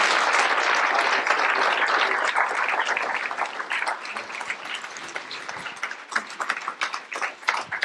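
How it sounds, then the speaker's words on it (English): Audience applause at a lecture on tactical urbanism and action sports recreation starts as a dense, loud wash of clapping, then thins over several seconds into scattered individual claps. "Give him a round of applause."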